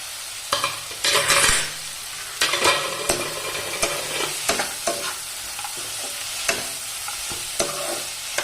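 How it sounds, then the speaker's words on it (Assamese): Tomatoes, onion and cashews fry in a pan under a soft continuous sizzle, broken by repeated sharp scrapes and clacks of a spatula stirring the mixture, close by with no voices. "এনেদৰে আকৌ 5 মিনিটমান ভাজিব লাগিব।"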